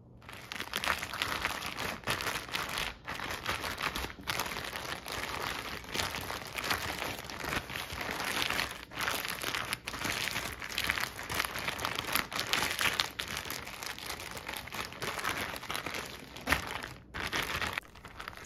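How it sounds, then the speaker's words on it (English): A plastic zip top bag crinkles and crunches steadily as hands massage marinade into steak for Lao-style beef, a continuous close rustle with no talking. "Add it to your zip top bag and then massage all of that deliciousness into the meat."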